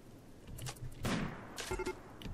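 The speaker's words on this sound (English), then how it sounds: "They're assaulting the colony. Good shot, Vapa." Gunfire during a colony raid in the video game RimWorld, a few sharp shots spaced apart at moderate level with rumbling in between.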